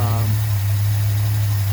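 A V8 car engine with dual Holley 1920 carburetors idles in drive, steadily with a low, constant hum and slight vibration, close by. A brief voice is heard at the very start.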